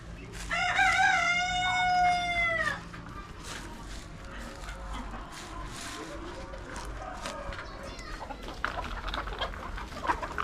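A rooster crows loudly once, then backyard chickens cluck and chatter around someone talking while he feeds the flock before deworming.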